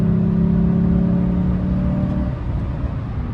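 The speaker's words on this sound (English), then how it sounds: "it makes a lot of intake noise now, which I guess is okay" A 2012 Chevrolet Silverado pickup fitted with a custom intake tube holds a loud, steady engine drone with strong intake roar, which drops away after about two seconds as the revs fall.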